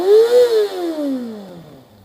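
A 2018 Kawasaki ZX-6R with its stock exhaust revs loudly up close, climbing to a sharp peak and then falling away in a long, smooth decay.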